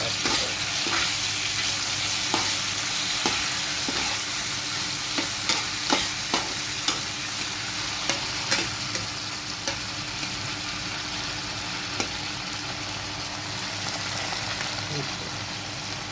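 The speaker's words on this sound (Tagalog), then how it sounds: "lagay na natin ang corned beef." Argentina corned beef fries in a pan as a steady, close sizzle, with repeated scraping and stirring clicks from a utensil against the pan.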